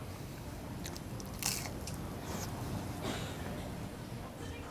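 Crisp bites and crunchy chewing of fried shrimp toast, close up, with a few sharper crunches standing out over steady munching; no talking.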